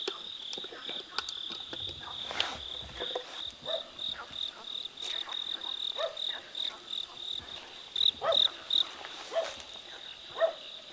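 A cricket chirps at night, a steady, high, continuous trill, close and clear, with faint rustling and scattered knocks around it.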